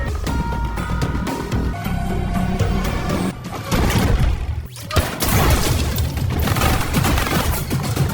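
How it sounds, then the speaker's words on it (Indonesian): A tense hotel-room gunfight from the 2025 film Ballerina: dense, loud bursts of gunfire, booms, and crashing impacts over a dramatic score, with a brief drop in intensity midway. "terjadi baku tembak menegangkan di dalam kamar"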